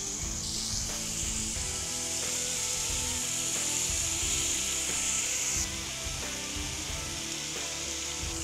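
Chicken shish tawook skewers sizzle steadily on a grill, a loud continuous hiss with background music playing underneath throughout.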